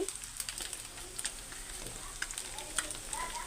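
Spicy Yippee noodles fry with masala in a pan, a soft sizzle broken by scraping and stirring clicks as the noodles are turned.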